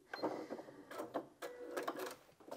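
A Janome M200QDC sewing machine stitches a sequence of letters in short whirring bursts, quiet and close, with brief pauses between motor runs.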